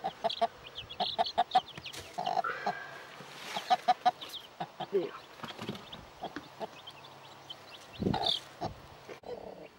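A broody hen clucks repeatedly with a group of three-day-old chicks in a coop, the soft irregular clucks and small peeps fairly close over low background noise.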